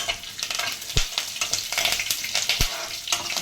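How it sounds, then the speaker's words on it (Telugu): Curry leaves crackle and pop in hot oil alongside frying pieces for lemon rice, a dense close sizzle broken by sharp spitting bursts, loud with no talk. "కరివేపాకు కొంచెం చిట్టపట్టలాడాక"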